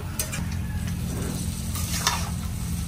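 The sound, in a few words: stirring duck meat with potatoes and turmeric in a frying pan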